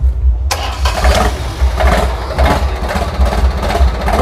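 A Yanmar three-cylinder turbo diesel engine on a rice leaf cutter cranks and catches after a brief silence, then settles into a steady, fairly soft low idle close by.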